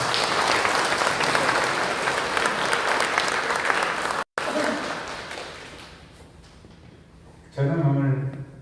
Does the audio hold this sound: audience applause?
yes